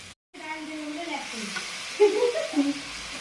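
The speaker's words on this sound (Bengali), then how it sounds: "তাই আমি পেঁয়াজ, কাঁচা ঝাল সব মশলাগুলো দিয়ে ভেজে নিচ্ছি" Onion, green chili and spices fry in a pan with a soft, steady sizzle and occasional stirring scrapes, while a faint voice sounds at times.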